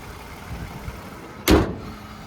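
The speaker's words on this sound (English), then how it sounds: "That hood is heavy and loud." The heavy hood of a 2013 Toyota Highlander with a 3.5-liter V6 slams shut in a single sharp, loud thud. Quiet background rumble comes before it and a short decay follows.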